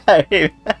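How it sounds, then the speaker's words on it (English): A sneeze from someone at their microphone during a voice chat while playing Final Fantasy XIV: A Realm Reborn, coming as a quick burst of three close, loud bursts. "Bless you."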